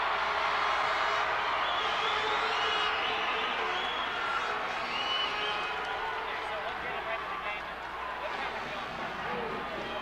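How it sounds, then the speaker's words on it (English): A gymnasium crowd at a 1989 Section V Class A boys basketball championship, East versus Rush-Henrietta, cheers and roars continuously, a loud dense wall of voices and whoops sustained for the whole stretch. "The crowd coming to life here."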